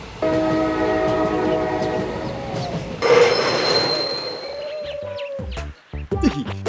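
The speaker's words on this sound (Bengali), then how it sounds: "এই ট্রেনটা দাঁড়িয়ে গেল কেন?" A passenger train runs on the rails. A sustained tonal horn or whistle sounds first, then a loud metallic wheel squeal rises and fades, followed by a few scattered clanks.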